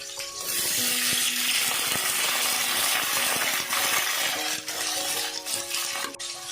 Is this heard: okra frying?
yes